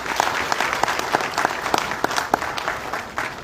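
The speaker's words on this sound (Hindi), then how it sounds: "जोरदार तालियों से उनका स्वागत कीजिए।" An audience at an intellectual gathering at the Jammu Club gives warm applause to welcome a woman who arrived in a wheelchair through heavy rain. The clapping is dense and steady throughout, with crisp individual claps standing out.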